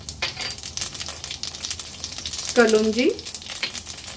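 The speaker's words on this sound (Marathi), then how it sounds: "फोडणी पण आपली छान तडतडली आहे" Fenugreek, mustard seeds, fennel, nigella and carom seeds crackle and sizzle in hot oil on a low flame for amla pickle tempering, a steady fizzing with sharp pops and a brief metallic clink, with a word spoken once.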